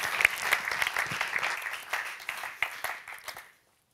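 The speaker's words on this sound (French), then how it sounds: "On les applaudit encore" Audience applause at an advertising awards show honoring a prize-winning campaign, a dense wash of many hands clapping close and steady, then cutting off abruptly into silence near the end.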